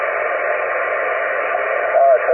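A faint, hissy 40-meter NVIS amateur radio transmission from about 225 miles away, with band-limited static and a muffled, barely audible voice, steady throughout with a brief chirp near the end.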